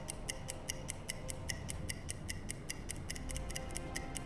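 A stopwatch in a U-boat video game ticks steadily and crisply, a rapid even series of sharp clicks running without pause over a low background rumble, with no voices.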